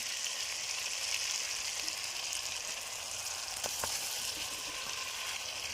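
Pointed gourd, fried beforehand, goes into a pan of spice paste that has cooked until the oil separates. The paste sizzles loudly and evenly the whole time, with one or two faint knocks, and there is no talking.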